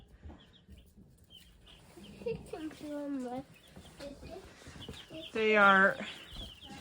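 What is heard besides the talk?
chickens clucking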